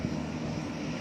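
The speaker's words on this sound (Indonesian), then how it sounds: "pesawat dari maskapai Susi Air baru saja mendarat Bumi Arung Palaka." A Susi Air propeller plane that has just landed at Arung Palakka airport in Bone gives off a steady, loud engine drone with a low throbbing hum, continuous throughout with no voices.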